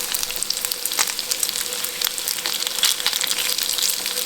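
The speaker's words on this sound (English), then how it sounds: "You hear it popping. You hear it popping. That good old bacon." Bacon frying in a pan, crisping over steady heat with a dense, continuous sizzle and frequent sharp pops of fat, loud and close.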